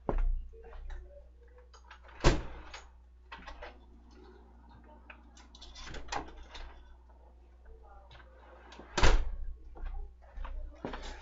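Door opened to let a dog in: a few sharp knocks and clicks of the handle and latch, soft shuffling and movement between them, and faint bumps as the door swings, all fairly quiet and close.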